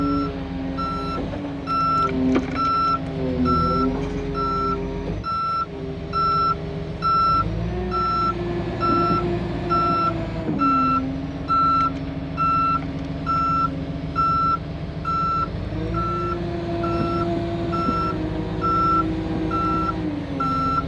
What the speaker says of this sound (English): I'll back up and set that plow down in there.